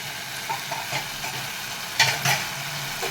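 Ivy gourd (dondakaya) pieces sizzle in a hot pan for a tomato curry while a spoon stirs them, with several soft scraping strokes and a louder double scrape near the end over a steady frying hiss.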